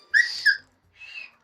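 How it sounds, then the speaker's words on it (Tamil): A whistle is blown to clear people out of a park at closing time: two sharp, loud blasts close together, then a fainter, longer whistle after a short pause. "விசில் அடிச்சா வெளிய போன அர்த்தம்டா"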